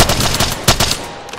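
Rapid automatic gunfire in the video game Apex Legends, loud and close, with a fast rhythmic burst of shots that briefly pauses and resumes before tapering off.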